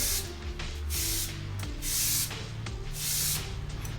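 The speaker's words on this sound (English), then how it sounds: "I'm just going to spray across here." A spray paint can hisses in several long bursts during a Batman painting, loud and close, with short pauses between them over a low background hum.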